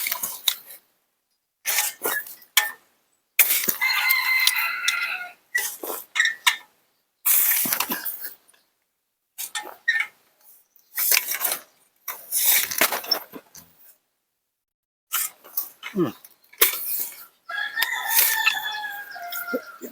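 Several roosters crow in turn, short bursts and drawn-out calls separated by brief silences, loud and near with no talking.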